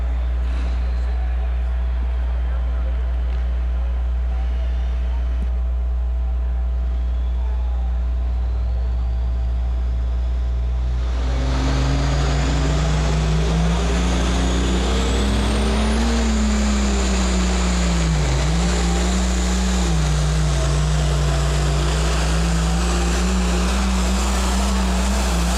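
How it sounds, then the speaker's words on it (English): A Case IH Puma pulling tractor with sheet metal body at a county fair tractor pull. It idles steadily, then roars loudly under load from about the eleven-second mark, the engine pitch rising and wavering as it works, with a faint high turbo whine. "That engine going to work tonight. You heard the turbo chirp,"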